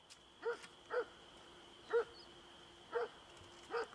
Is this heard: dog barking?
yes